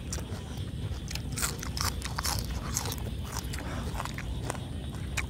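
Loud, close crunching and chewing of spicy boiled pig head in a mukbang, with repeated crisp bites and wet mastication running steadily throughout, no talk.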